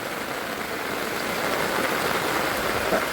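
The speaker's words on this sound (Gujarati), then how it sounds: "ભાઈ મિત્રો વરસાદ આવે તમે જોવો ખાલી સારે બધું વરસાદ પડે" Rain pours down on a campsite in Gujarat, a constant, even hiss of falling water heard close by, with no talking.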